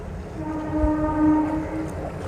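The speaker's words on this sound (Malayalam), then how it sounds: "ട്രെയിനിൻ്റെ ഹോണടിയാണ് ആ കേട്ടത്" A train horn sounds near a railway bridge, a sustained steady blast with layered tones held across the whole stretch, close and fairly loud over faint rumbling rail noise.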